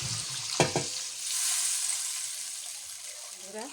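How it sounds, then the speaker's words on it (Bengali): Katla fish curry gravy bubbles and simmers in a pan, a soft, steady hiss with gentle bubbling, briefly interrupted early on by a short clatter and a few spoken syllables. "এখন মাছের ঝোলে বলক আসছে"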